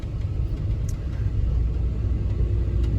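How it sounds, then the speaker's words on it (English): A car drives on the road with a low, steady interior rumble of engine and tires, close and continuous, without any talk. "as we drive to our destination."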